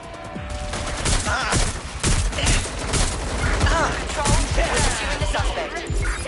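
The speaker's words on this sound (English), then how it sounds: "Someone's shooting!" Gunfire in the video game Watch Dogs Legion: rapid bursts of shots, loud and dense, with voices from the game heard over and between the firing.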